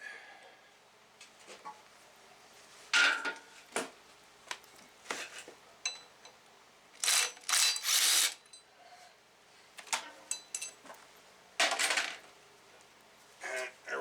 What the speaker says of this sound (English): That's the flywheel now removed.